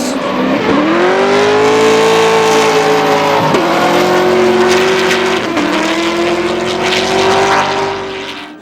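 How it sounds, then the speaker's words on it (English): Nissan S15 drift cars at Hampton Downs, New Zealand, roar past loud and close, a high engine note holding steady with two sharp dips at gear changes or lifts before the sound fades away at the end. "led out from Drew Donovan in the SCR S13, the Milwaukee S15 washing out wide on the first pass."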